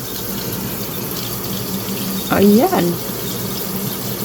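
Tap water runs steadily from a kitchen sink faucet, a constant hiss with a brief spoken word in the middle.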